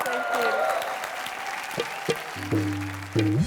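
Studio audience applause on a comedy entertainment show, clapping under a bed of music with tonal stings and a loud host's voice talking over it, short bursts and swells across a few seconds.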